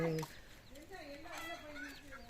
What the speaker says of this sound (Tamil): அம்மா கோழி குஞ்சு